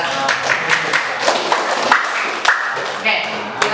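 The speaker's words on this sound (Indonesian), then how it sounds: "Tepuk tangan untuk kelompok 3" A classroom group claps for the third group after its presentation, a dense, uneven patter of many hands with voices chattering underneath throughout.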